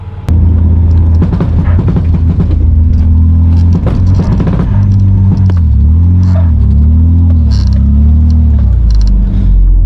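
A Ford Territory climbs an off-road powerline track in the Glasshouse Mountains, its engine droning loud and close with a deep steady rumble, rising and falling revs, and knocks and rattles from the rough ground.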